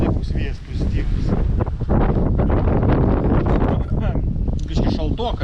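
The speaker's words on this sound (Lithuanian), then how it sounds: "matai, koks vėjas" Strong wind gusting across a farm on a chilly summer day in Lithuania, loud and continuous buffeting the microphone, with someone talking over it throughout.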